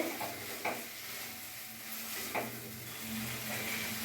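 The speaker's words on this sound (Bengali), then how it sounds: "আমি গ্যাসের ফ্লেমটা একটু হাই রাখবো একটু ভাজা ভাজা আর একটু করে নেব" Taro stolons fry in a pan over a high gas flame with a soft, steady sizzle, broken by two distinct scrapes of a spatula against the pan; the sound is quiet and close, with no voices.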